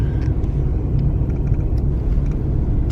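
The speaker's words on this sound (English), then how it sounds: "So we are driving up to Cadillac Mountain." A car driving up the road to Cadillac Mountain in Acadia National Park, Maine: a steady, loud engine and road rumble from inside the vehicle, continuous with no talk.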